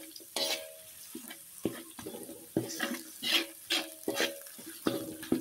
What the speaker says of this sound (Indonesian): jadi kalau daun jeruk serai ini kita tumis seperti ini pemirsa, jadi bareng sama bumbu yang dihaluskan